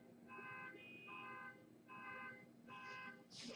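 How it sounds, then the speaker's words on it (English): Electronic alarms sound outside, repeating in regular beeping tones, each burst about half a second long, moderately distant and faint, with a brief rustle near the end. "Somebody's like turning on all the alarms out there."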